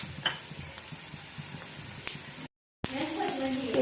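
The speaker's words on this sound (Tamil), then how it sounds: "கட் பண்ணி வச்ச வெங்காயத்தை சேர்த்து ஃப்ரை பண்ணிக்கலாம்" Chopped onions frying in oil in a frying pan for a crab curry, a busy crackling sizzle with scattered pops, broken by a brief silent gap before the frying resumes louder.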